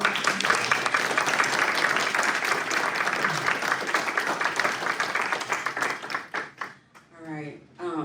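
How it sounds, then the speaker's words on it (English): Audience at a book launch and panel applauds the panel speakers, a dense, steady clapping that fills the room for about six seconds before thinning out into a few scattered claps and a voice near the end. "Can we give them another round of applause?"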